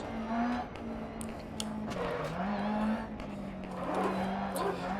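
In Dirt Rally, a rally car runs downhill with a steady engine drone that dips and rises through the turns, plus scattered gravel and tyre noises. A voice talks over it throughout.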